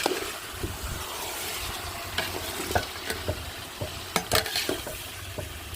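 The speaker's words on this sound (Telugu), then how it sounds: "చికెన్ వేసుకుందాం దీంట్లో చికెను బంగాళదుంప ఇంకా వేసి బాగా కలిపుకోవాలి" Chicken and potato pieces sizzle in hot oil in a pan while being stirred, with steady frying hiss broken by scraping and clinking spoon strokes.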